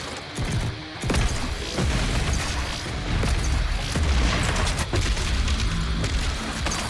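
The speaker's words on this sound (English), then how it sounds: "Move to an explosive round shotgun." Explosive-round shotgun blasts in the video game Doom Eternal, fighting Cacodemons: loud, dense gunfire and booming impacts over a steady wash of game noise and effects, with no talk.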